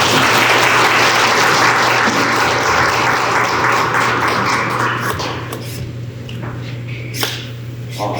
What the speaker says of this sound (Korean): 박수로 저희 이상현 대표님을 모시겠습니다